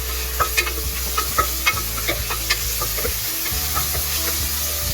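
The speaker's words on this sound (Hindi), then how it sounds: "2 टेबलस्पून हमने लहसुन इसमें हल्का सा फ्राई करना है" Onion and garlic sizzle steadily in hot oil while cooking chicken shami kabab, with scattered clinks and scrapes of stirring over the constant frying hiss.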